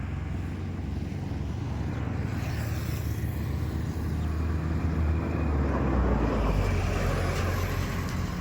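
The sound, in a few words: manual car being driven slowly into a garage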